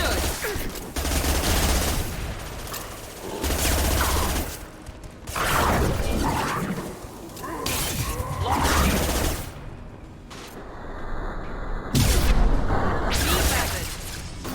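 Bursts of automatic gunfire and heavy blasts from a Mass Effect 2 firefight, loud rattling volleys coming in waves with brief lulls between them.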